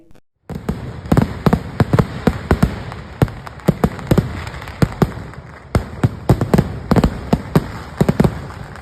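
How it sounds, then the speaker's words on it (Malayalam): Festival fireworks at the Uthralikavu Pooram temple celebration in Vadakkanchery, Kerala, burst as a rapid irregular volley of loud sharp cracks and booms, some clustered, with crackling between them and no voices. "ഏങ്കക്കാട് ദേശം നടത്തിയ വെടിക്കെട്ട് ഉത്സവ പ്രേമികളെ ആവേശത്തിലാഴ്ത്തി"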